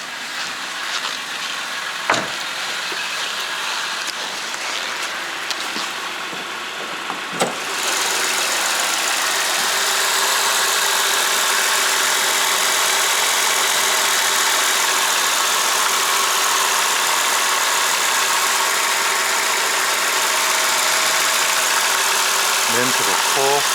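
A 2018 Hyundai Grandeur IG LPi engine idles steadily, a smooth continuous hum that grows fuller after a few seconds, with faint clicks and brief handling noises early on.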